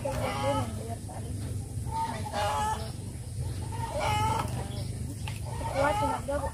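Rooster crowing repeatedly in a village kitchen setting while rice is cooked over a fire, several loud, near crows with clucking between them, with people talking softly underneath.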